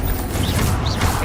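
A Confringo spell cast in Hogwarts Legacy, a dense crackling, mechanical rush with whooshing swells, loud and continuous for just over a second.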